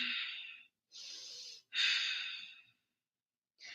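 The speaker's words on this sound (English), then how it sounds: "Breathe." Slow, audible breaths drawn in and pushed out during morning yoga stretches: three long airy exhales, each a second or so apart, then the start of another, close and quiet, with no talking.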